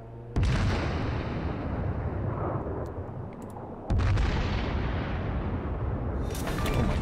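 Naval guns of the Amagi battleship firing in World of Warships: two heavy, booming salvos a few seconds apart, each a sharp loud blast that rolls into a long low rumble, over constant background roar.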